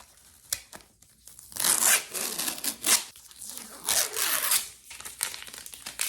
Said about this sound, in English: Let's unbox this folder.